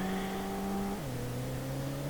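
A car in the PS1 police-chase game World's Scariest Police Chases runs out of control, its engine droning steadily and then dropping in pitch midway, loud and alone with no voices.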